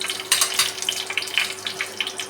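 Half a spoon of mustard seeds splutter in hot oil in a pan while preparing spicy tuna fish pickle, giving a steady run of sharp crackling pops with no talk.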